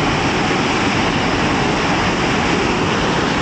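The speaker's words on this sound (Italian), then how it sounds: "La potenza dell'acqua." Loud, steady roar of a rushing mountain stream in Val d'Ayas, dense broadband water noise filling the whole clip up close with no voices.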